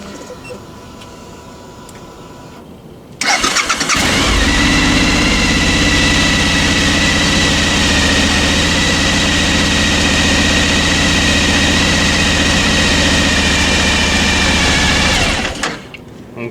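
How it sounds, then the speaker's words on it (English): Motorcycle engine after an oil change starting with a sudden loud catch, then idling with a steady close drone for about ten seconds before shutting off. "I'm going to start the engine and let it run for about 10 seconds just to get oil into here"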